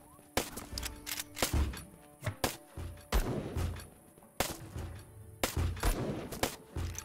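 Gunfire cracks in Black Skylands, sharp separate shots spaced irregularly a second or so apart with a few quick doubles, fairly close, with some faint talk in the background.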